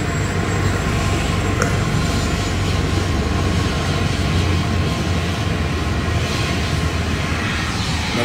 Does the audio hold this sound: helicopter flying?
yes